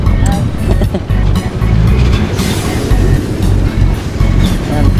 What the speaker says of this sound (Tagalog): Sarap ng tunog ng motor niya.